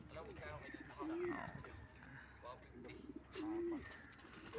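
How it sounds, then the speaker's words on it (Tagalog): Pigeons give repeated soft, low cooing calls close by, two distinct coo phrases over a busy background with people talking. "Kumakaig pa rin yung kalapati niyo."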